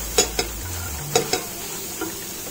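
Oil poured into a pan of dry-roasted onion-garlic masala, with sharp clinks of a spoon against the pan recurring every second or so over a low background sizzle.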